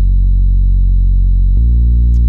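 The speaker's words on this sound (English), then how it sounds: "It's a sine wave with some distortion here." A synth oscillator plays a distorted sine wave as the base of a Reese bass, a loud, sustained low buzzing tone that drops in pitch partway through and holds steady, with no other sounds present.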